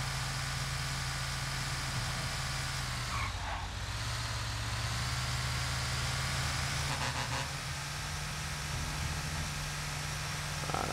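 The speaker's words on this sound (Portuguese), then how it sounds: "Esse motor aqui gosta de acelerar" A bus engine in GTA V runs steadily with a low droning hum, holding a constant loud idle-to-cruise rumble throughout with slight shifts in pitch and no clear surge of revving.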